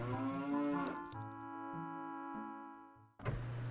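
Cows mooing at Lon Lon Ranch in Zelda: Ocarina of Time, one long, loud, sustained moo with a second low moo starting at the end, close and alone.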